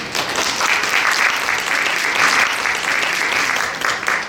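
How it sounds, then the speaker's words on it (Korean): Audience at a Korean safety culture academic conference applauds to welcome a keynote speaker, a steady, dense wash of clapping from a large crowd that holds at full strength throughout. "큰 박수로 환영 부탁드리겠습니다."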